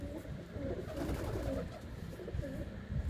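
A female racing pigeon coos in a low, continuous throaty murmur, close by, under a rumbling background with no talk over it.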